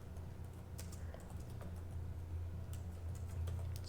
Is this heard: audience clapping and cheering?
no